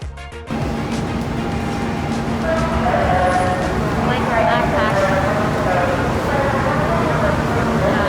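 Low rumbling engine drone and road noise inside a moving city bus heading to the city centre, steady and continuous after a sharp bump at the start, with faint rattles over it.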